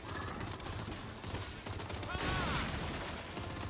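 Faint volleys of gunfire in Gears of War 5, with rapid overlapping shots in a busy battle mix and a slightly louder flurry near the end.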